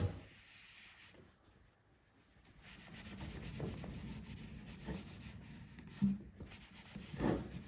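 Cloth rubbing homemade furniture polish residue off a wooden surface, soft swishing strokes that swell and fade, fairly quiet and close, with a couple of sharper rubs near the end.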